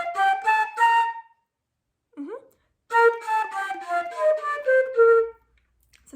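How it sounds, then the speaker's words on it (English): A flute plays a phrase of separately tongued notes, each attack crisp and distinct with small gaps between them, close and clear. A short rising squeak sits in a pause between the two phrases. "So tonguing sounds like this."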